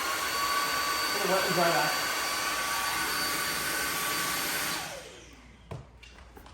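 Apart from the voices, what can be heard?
Samsung Jet 90 cordless stick vacuum running at maximum power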